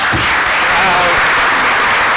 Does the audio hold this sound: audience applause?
yes